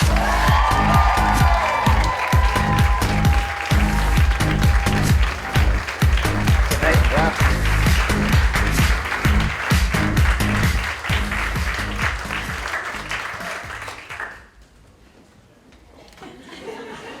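Loud crowd applause with cheers and whoops filling a hall as a speaker is introduced on stage, steady clapping that fades out abruptly near the end.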